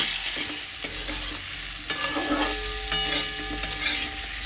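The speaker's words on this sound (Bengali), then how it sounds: "আবার আমি নেড়ে চেড়ে দেব।" Radish and lentils stirred in a pan, a spoon scraping and clinking through the mixture over a soft sizzle, close and moderately quiet, with no talk.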